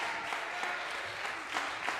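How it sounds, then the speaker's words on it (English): Audience applause at a live jazz concert by a band at a performing arts center gala, a steady dense wash of many hands clapping with a few louder bursts, no talking. "Give them one more great big round of applause."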